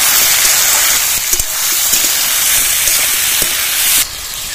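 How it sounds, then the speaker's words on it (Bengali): Onions and cut potatoes frying together in a pan for a Bengali jackfruit (echor) curry, giving a steady loud broadband hiss with a few faint clicks and scrapes throughout, no talk. "সঙ্গে পেঁয়াজটা ভালোভাবে ভাজা করে নেব।"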